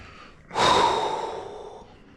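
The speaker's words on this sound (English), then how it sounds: "Big breath." One deep breath during a face and head massage, a soft inhale followed by a long, fading exhale, close and quiet.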